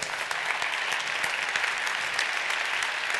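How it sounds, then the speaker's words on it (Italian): An audience greets a speaker at a talk with steady, dense applause, many hands clapping together at an even volume from start to finish. "che accoglierei con un applauso"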